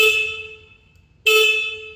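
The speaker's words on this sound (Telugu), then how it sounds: "ఈ బైక్ ఒకసారి హార్న్ వినిపిస్తాను" Two loud, close honks of a Royal Enfield Super Meteor 650 motorcycle's single horn, a single steady tone each, separated by a short silent gap.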